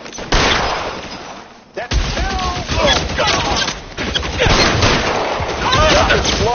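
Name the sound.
gunfire in a film shootout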